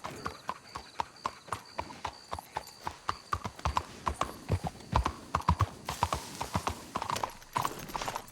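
Horse hooves clip-clop in a steady, even rhythm in Red Dead Redemption II, sharp clear strikes continuing throughout at a walking pace.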